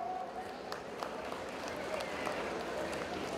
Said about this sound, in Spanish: ¿dónde está el aplauso del público?